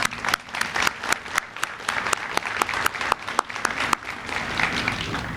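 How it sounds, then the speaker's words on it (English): An audience at an evening signing-day ceremony applauds the parents of students, a fairly close, steady round of hand clapping with some sharper individual claps standing out, running the full length without speech. "I would like to applaud you for being here tonight."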